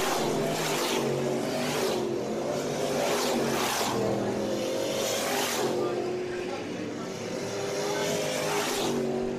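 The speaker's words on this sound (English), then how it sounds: "It's the Lane train going down the backstretch." Race cars lapping an oval track at a Gator National event roar past in repeated swelling waves, loud and close, with engines revving up and fading as each pack passes, under a track announcer's voice.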